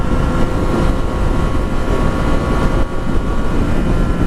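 A Yamaha FZ-09 motorcycle rides along with a loud, constant engine drone and heavy rushing wind noise that fill the whole clip without letup.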